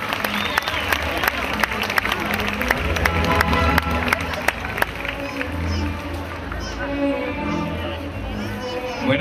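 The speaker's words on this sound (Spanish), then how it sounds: "Recibamos con un fuerte aplauso a Josefa Bolívar" An audience at the Serranilla de Mágina pageant in Huelma claps steadily to welcome a town representative, with music playing underneath, sharp louder claps cutting through, and the applause thinning toward the end.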